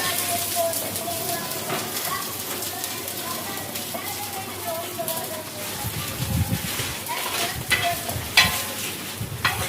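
A burger patty fries in a pan, with a continuous sizzle close by and scraping stirs growing louder toward the end while a voice talks over it.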